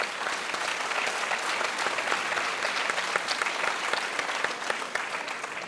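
An audience at a high-school students' eloquence contest in Montreuil applauds, brisk continuous clapping from a crowd, fairly distant and sustained throughout.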